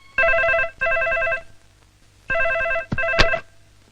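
An old-style telephone rings in two double bursts of electronic trilling, loud and close in a quiet home, followed by a sharp click as the receiver is picked up.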